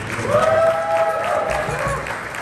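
Short burst of audience applause for camp staff at a magic show at Hume Lake, with clapping from a crowd alongside a few voices and brief cheers, fairly loud and then fading slightly.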